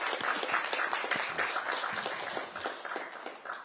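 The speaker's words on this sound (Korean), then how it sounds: "수고했다는 의미로 좀 박수 치면서 시작하도록 하겠습니다." Lawmakers at a Democratic Party floor leadership meeting clap together for a few seconds. The applause is steady and moderately loud in a room, then fades out gradually.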